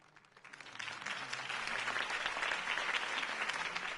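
Video game crowd applause from Batman: The Telltale Series swells up quickly and holds as sustained, dense clapping, moderately distant.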